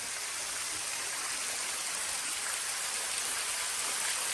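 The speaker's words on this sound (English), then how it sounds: "And this is Rainbow Falls from the bottom side." Rainbow Falls waterfall in Red River Gorge, Kentucky, heard from the base as a steady, loud, unbroken rush of falling water with no voices.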